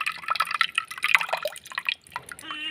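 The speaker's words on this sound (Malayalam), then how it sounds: "അപ്പോൾ പുളിവെള്ളം ഒഴിച്ച് കൊടുക്കുന്നുണ്ട്." Tamarind water is poured into a ground green peppercorn paste for a sardine curry: a light dripping, splashing trickle, fairly close, with faint voices underneath.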